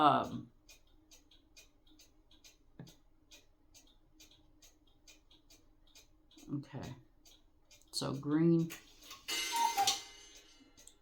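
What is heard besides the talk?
cuckoo clock ticking and chiming the hour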